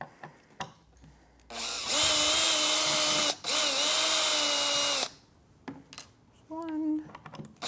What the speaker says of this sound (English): It's easier for me to access them from this side with my handy drill